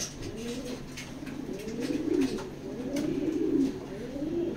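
Racing pigeons coo in repeated soft, rolling phrases close by, about four calls in a steady rhythm with faint background noise.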